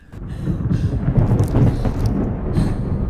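Deep, rolling thunder rumbles through a dramatic horror film scene, a continuous loud low roar swelling over about three seconds with brief crackling bursts, no voices.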